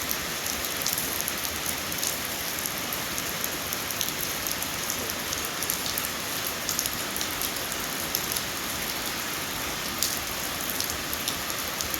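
Heavy daytime rain falls steadily in the countryside, a dense, even hiss of drops drumming on surfaces close by, with scattered louder splats and no voices.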